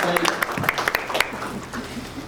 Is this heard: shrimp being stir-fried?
no